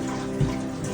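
A cooking pot is washed under running water, giving a short, steady, close gush of flowing water with a slight splashy swell in the middle.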